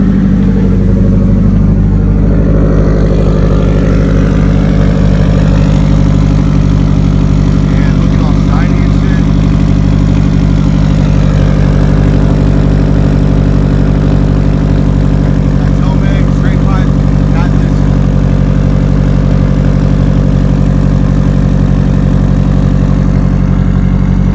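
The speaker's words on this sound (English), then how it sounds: "Let's hear that exhaust." A Subaru WRX STI running E85 idles steadily with a deep, rumbling exhaust note that stays loud and constant throughout, with faint voices underneath.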